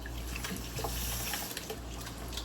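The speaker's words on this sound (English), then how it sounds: "Wash my hands." Hands being washed under a running kitchen tap, with a steady, close rush and splash of water that continues unbroken throughout.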